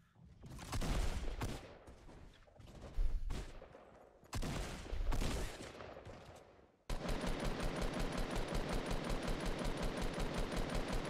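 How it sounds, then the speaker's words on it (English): Gunfire in Fortnite as a player shoots at a wall, with irregular heavy bursts of shots and a short pause, then a steady, evenly pulsing rapid stream of fire to the end. "He's shooting a wall"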